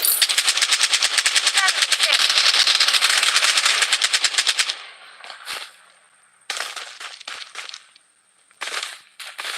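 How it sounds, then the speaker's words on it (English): Rapid, loud automatic fire from a defensive turret in a video game rattles continuously for about five seconds, then breaks into shorter bursts separated by gaps, with a faint voice underneath. "Defensive turret activated."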